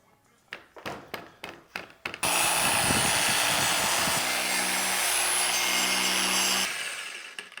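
After several thumps, a Harbor Freight polisher runs steadily for about four and a half seconds as it buffs a car headlight with plastic polish cream, a loud, even whirring drone that shifts pitch slightly, then winds down.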